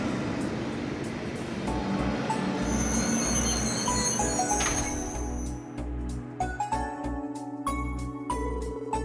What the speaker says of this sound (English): Lloyd and the others then waited to board the next train back to Crossbell